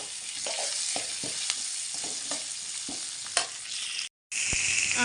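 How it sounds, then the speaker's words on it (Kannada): Tomatoes frying in a pan for a banana-stem sambar: a dense, close sizzle broken by repeated clicks and scrapes of a spoon stirring, with a short gap near the end. "ಟೊಮೊಟೊ ಎಲ್ಲ ಹುರ್ಕೊಬೇಕು"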